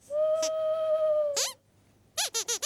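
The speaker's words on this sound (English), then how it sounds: "That's just an owl, Sweep." An owl hoots at night, a long steady call followed after a pause by four short rapid hoots, close and clear against a quiet background.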